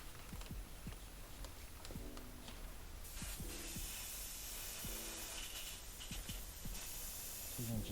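An Iwata airbrush being rinsed out after painting a jack-o'-lantern, a steady soft hiss of spraying air with faint clicks and small knocks of handling, fairly quiet and close.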